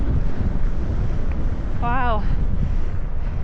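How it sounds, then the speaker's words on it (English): Strong wind buffets the microphone in a steady, loud roar while fat biking outdoors, with a brief exclamation from a rider heard over the gusts. "wind is picking up big time"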